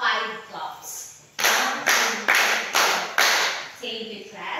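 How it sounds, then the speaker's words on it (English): A school class claps five times in unison, the sharp, evenly spaced claps close and loud in a classroom, with voices murmuring before and after. "Give yourself a 5 claps."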